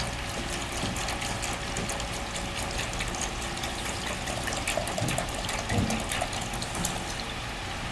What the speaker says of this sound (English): Now I'm going to add water. This blender, I'm going to fill this up to about 48 ounces with the water